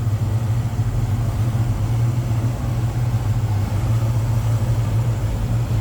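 A 1974 Pontiac Trans Am 455 V8 with HEI ignition idles smoothly and steadily, a low, even rumble close by with no voices over it.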